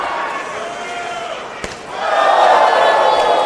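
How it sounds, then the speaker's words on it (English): A wrestler's open-hand chop lands on an opponent's chest at a live wrestling event: a single sharp slap, followed by a crowd's rising roar and shouting. "chop right through the chest of Markova"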